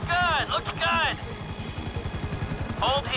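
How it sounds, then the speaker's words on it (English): Helicopter hovering in GTA 5, its steady pulsing rotor chop running loud and close throughout while voices talk over it. "Just hold the chopper here!"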